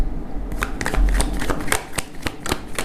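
Tarot cards are shuffled by hand in a quick, papery riffle of rapid flicks, close and fairly loud, running continuously without any talking.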